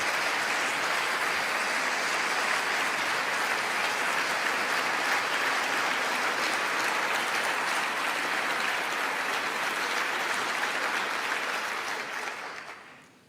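Sustained applause from a large audience after a line in a formal speech by King Charles, a steady dense wash of clapping that holds for about twelve seconds before fading out.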